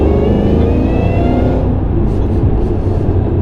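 A modified supercharged Shelby GT500 Mustang making 663 wheel horsepower accelerates hard, its loud, close engine roaring with a deep rumble and a rising whine, steady and powerful throughout.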